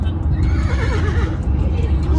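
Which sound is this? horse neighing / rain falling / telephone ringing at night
horse neighing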